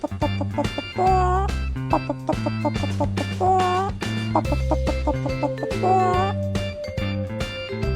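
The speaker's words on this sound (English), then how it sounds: "Chicken." A hen clucking in short rising calls, several spaced bursts over a bouncy rhythmic backing of plucked tones and percussion, close and moderately loud.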